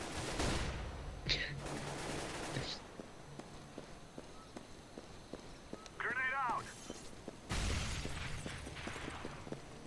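Gunfire in Counter-Strike: Global Offensive comes in several loud, short bursts separated by gaps, with quieter in-game sounds between them and players talking throughout.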